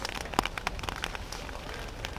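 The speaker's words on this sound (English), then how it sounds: "Now the rain is coming down kind of heavy now." Heavy rain pours steadily throughout a baseball game between Israel and the Netherlands, a dense constant hiss with a few sharper nearby drop splatters and no talking.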